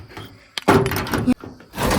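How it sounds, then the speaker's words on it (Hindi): A rusty metal door on a long-closed tea stall and snack shop in the hills is pushed and forced, giving a couple of loud thuds and a scraping, rattling grind, close by and alone. "दरवाजा भी नहीं खुलवा रहा।"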